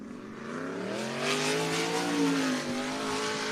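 A race car circles the dirt track at Cottage Grove Speedway, Oregon, its engine a sustained, rising and falling roar that swells as it accelerates past, fairly close and loud, with no talk over it.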